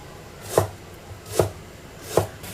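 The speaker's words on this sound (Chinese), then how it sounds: "生姜切片。" Fresh ginger sliced with a knife on a cutting board, three evenly spaced crisp chops landing close and clear against a quiet background.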